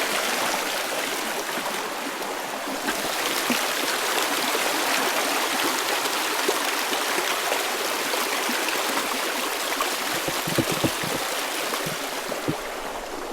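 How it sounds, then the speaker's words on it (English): A creek in Dupont Forest, North Carolina, rushes and babbles steadily, a loud, close broadband flow of water with occasional splashes and no voices. "Found the creek."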